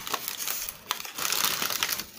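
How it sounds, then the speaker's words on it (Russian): A small plastic bag crinkling as it is handled, close and fairly quiet, with bursts of rustling and a brief sharp crackle midway. "Так, следующий пакетик."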